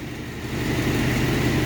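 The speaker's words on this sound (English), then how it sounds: "No way, it's idling" A small carbureted engine idling nearby with a steady, rapid low putter, slightly swelling in loudness.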